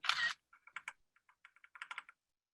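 Keystrokes tap on a computer keyboard in a quiet room, a scattered run of light, uneven clicks close by after one louder opening clatter, with no voices.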